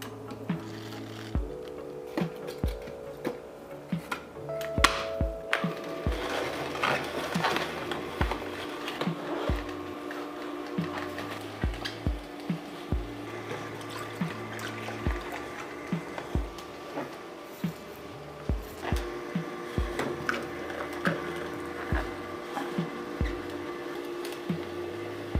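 A Hurom H310 slow juicer works through apples and spinach with a low mechanical hum punctuated by frequent irregular clicks and knocks of produce being crushed, close and moderately loud.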